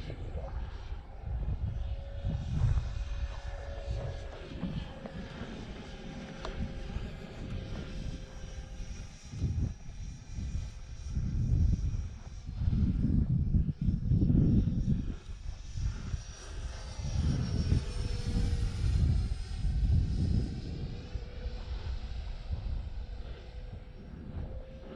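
An Arrows T-33 Shooting Star RC jet on a 4S 1300 battery whines through a crosswind flight, its pitch rising and falling as it passes at moderate distance in a steady, continuous drone.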